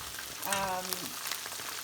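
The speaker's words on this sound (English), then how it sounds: "after about 5 minutes or so of frying and kind of moving my chicken around, turning it" Chicken pieces for General Tso's chicken sizzle and crackle steadily as they fry in oil close by, with a brief voice murmuring partway through.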